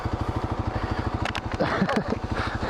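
Kawasaki KLX 250 dirt bike engine running on a wooded single track trail, a steady rapid single-cylinder thump throughout, close and loud, with revs rising briefly partway through.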